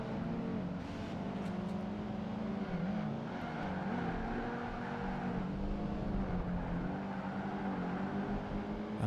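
A Subaru WRX races around a track in Project Gotham Racing 2, its engine droning steadily and loudly throughout, with slight shifts in pitch and no voices.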